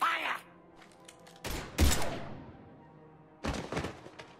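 Bursts of gunfire in a Mass Effect 3 firefight, with a couple of sharp, loud blasts and clattering volleys separated by short gaps, heard close.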